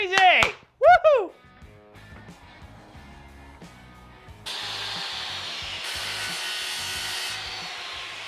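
Wood panel for a camper van cabinet in a Westfalia pop-top, cut to the van's side contour with a power saw. Two short squeaky bursts and light clunks come first, then a steady, fairly loud buzzing cut runs to the end.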